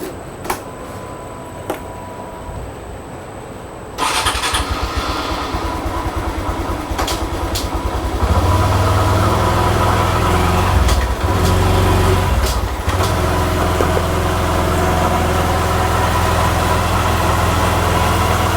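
Motorcycle engine held in third gear on a test run toward 5,000 rpm, a steady loud mechanical drone that steps up in intensity after a few seconds and holds continuously with no talk.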